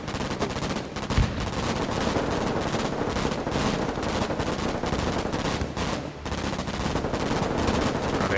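Continuous rapid automatic fire from Dragon units in the strategy game Broken Arrow, a steady dense rattle of shots running throughout at moderate distance, with no talking.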